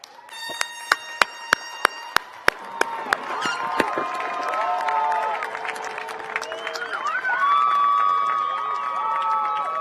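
Audience at a Montclair State University 2021 College of Humanities commencement ceremony applauds, opening with a few sharp individual claps that swell into sustained clapping and cheering, with whoops and shouts rising over the crowd.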